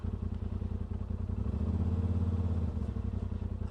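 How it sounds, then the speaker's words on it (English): Engine of a 2018 Polaris RZR Turbo fitted with an Assassins S2 clutch kit, idling and then easing up in revs with a rising hum that swells midway before settling, steady and close. "we're idling at 1250, and then we'll start easing into the throttle"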